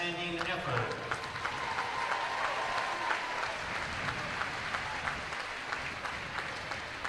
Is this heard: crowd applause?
yes